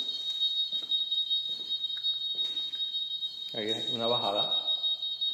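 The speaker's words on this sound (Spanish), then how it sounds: "Hay una alarma, so no voy a poder hablar mucho" An alarm inside the tiled entrance of Dogfish 212 gives a continuous, piercing electronic tone that never lets up, while someone speaks Spanish over it.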